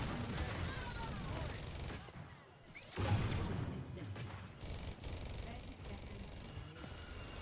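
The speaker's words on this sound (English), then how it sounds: "They use the Bastion ultimate" Rapid automatic gunfire from Bastion's ultimate in Overwatch on the Hanamura map, a busy barrage of shots, whooshes and impacts over continuous game noise, with a brief lull in the middle before the fire resumes.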